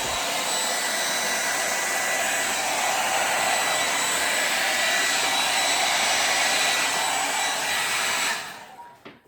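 Air blown steadily across a pastel acrylic paint pour, a loud continuous hair-dryer-like roar held close for about eight seconds before cutting off abruptly.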